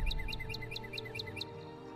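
Bird chirps from a Skyrim birds mod, a quick series of about eight high, evenly spaced tweets over a steady low game ambience, fading out after the first second and a half.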